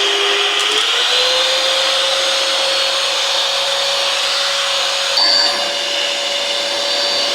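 An electric mixer blending cake batter with sunflower oil, a loud steady whirring hum that shifts pitch once near the start and briefly changes tone later, with no talk.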